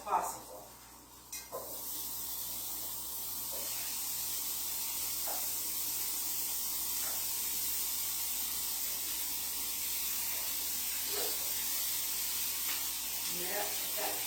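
Sausages sizzle in a hot frying pan, a steady broad hiss filling the clip after a few brief clatters at the start as the links go in, with faint voices and small knocks over the frying.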